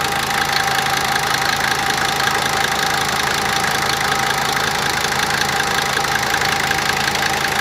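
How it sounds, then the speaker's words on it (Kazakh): A car engine idles smoothly and evenly at close range, a steady unbroken hum with no change in pitch or loudness throughout. "Мотор жақсы, жұмсақ істеп тұр."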